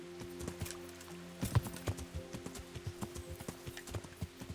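Horse hooves clip-clop in a steady walking rhythm in the medieval video game Kingdom Come: Deliverance, crisp and moderately loud over a faint droning background, with no speech.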